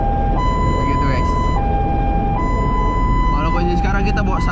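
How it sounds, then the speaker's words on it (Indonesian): An ambulance siren on slow hi-lo mode alternates between two tones in long, even steps over loud road noise, with a few honks or other sounds near the end. "pakai sirine pun sirine Hilo yang tonnya lambat kayak bunyi teno teno teno"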